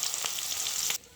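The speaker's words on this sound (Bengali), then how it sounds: "মাছটা বসাই দিলাম" Fish frying in a pan in a home kitchen, giving a steady, close sizzle with faint crackles that cuts off abruptly near the end.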